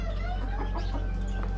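A rooster clucks several times in short bursts over a steady low background hum, with no talking.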